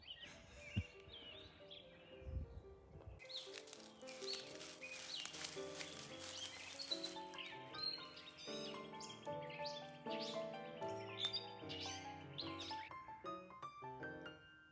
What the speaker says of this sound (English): And the birds have been singing up a storm.